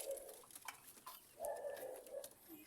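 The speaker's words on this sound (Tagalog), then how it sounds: "Ito ang aming mga kalapati." Pigeons coo softly close by in a backyard flock, a few faint, rounded coos repeating over a quiet background.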